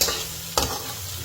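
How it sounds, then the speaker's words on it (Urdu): Garlic and spices frying in a pan for aloo salan, a Pakistani potato curry, with a steady soft sizzle and a sharp stir or scrape about halfway through, heard close and alone. "اس کو جب تک بھونیں گے جب تک اس کا کلر چینج نہیں ہو جاتا"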